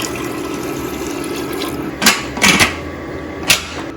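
Water poured into a pot of dal being readied to boil for South Indian sambar, a few short splashing bursts near the end after a quieter stretch, close and fairly loud.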